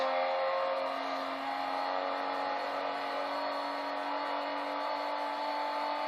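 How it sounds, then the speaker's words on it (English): Onboard a Lexus race car mid-race, a loud, steady engine drone with a strong sustained tone and whirring, constant and close throughout without any talk. "as we now go in car with Stretch in 4th place in the Lexus"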